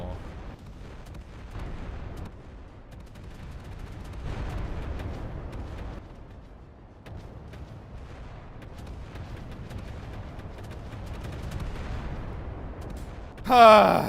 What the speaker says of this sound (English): I love me the sounds of gunfire in the morning or afternoon or actually any time of day